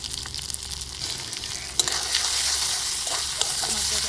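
Spices with turmeric, salt and red chilli powder fry and sizzle in a pan for a fish head curry, a steady close hiss with occasional stirring clinks and scrapes, louder after a sharp knock midway.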